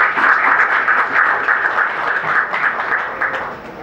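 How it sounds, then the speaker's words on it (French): Steady audience applause fills a hall at a public lecture, dense and continuous for several seconds with no speech over it. "On va vous applaudir aussi pour mon cas"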